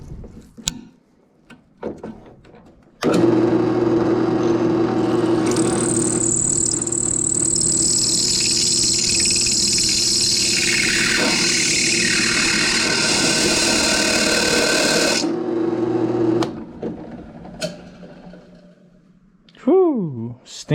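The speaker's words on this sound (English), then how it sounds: "I absolutely hate using this drill press just because of the drill bits issue." A drill press runs a drill bit into metal at around 550 rpm, with a steady motor hum and a harsh, sustained grinding screech lasting about twelve seconds before it stops, and brief handling clatter before and after.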